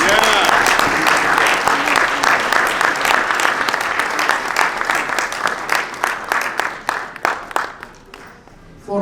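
An audience at a Muslim Heritage Month food distribution event in Paterson applauds in a dense, loud burst of many hands, thinning into scattered individual claps near the end.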